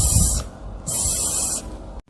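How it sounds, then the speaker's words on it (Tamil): A cartoon snake hisses in two loud, breathy bursts separated by a short pause, close and harsh over a low background rumble. "என்னல இது இசு இசுன்னு சவுண்ட் கேக்குது?"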